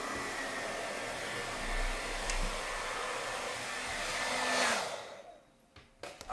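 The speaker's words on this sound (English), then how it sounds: "I accidentally turned on my hair dryer with my feet." A hair dryer, accidentally switched on by foot, blows with a steady close whooshing roar that runs for about five seconds, then cuts off abruptly, leaving a few faint knocks in a quiet room.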